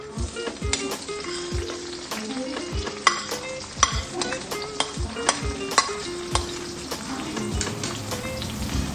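About a dozen small shallots sauté in a couple of tablespoons of oil in a pan, a continuous crackling sizzle with frequent spatula scrapes and taps stirring them, close up and without speech.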